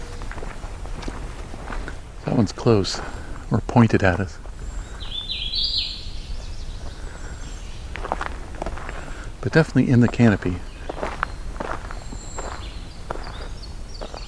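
Footsteps crunch along a woodland hiking trail in uneven clusters of scuffs and crunches while a person talks over them. A bird sings briefly in the background between the steps.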